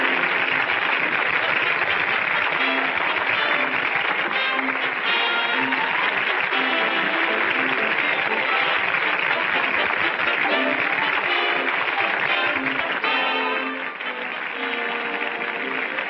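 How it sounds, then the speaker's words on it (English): Theatre audience applauding after a stage magic act, a dense continuous wash of clapping heard at a distance for the full length, fading slightly near the end. "Listen to that applause,"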